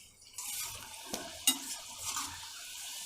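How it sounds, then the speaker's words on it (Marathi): Khaja (chirote) dough pieces fry in a kadhai over a low flame, giving a close, steady hissing sizzle with a few sharp utensil taps and scrapes. "छान असे तळतोय आपण याला"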